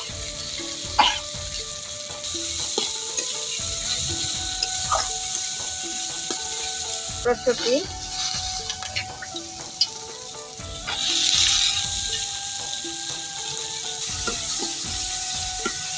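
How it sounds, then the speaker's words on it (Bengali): Spiced masala of chilli powder, chopped tomato, salt and peas sizzles steadily in a pan during a village-style rohu fish and cauliflower recipe, with clattering stirring strokes and a few brief metallic knocks throughout. "মশলাটা আমার একদম ভালোভাবে কষানো হয়ে গিয়েছে।"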